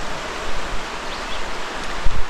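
A creek along the Appalachian Trail rushes steadily nearby, a broad, even wash of flowing water with a few soft knocks and no voices.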